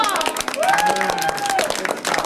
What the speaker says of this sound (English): How about some big applause?